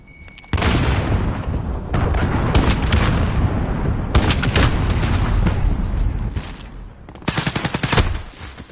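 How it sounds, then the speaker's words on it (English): A cruise missile strike in Modern Warfare lands as heavy, sustained booming roars, close and loud, mixed with rapid bursts of automatic gunfire. "Enemy cruise missile incoming."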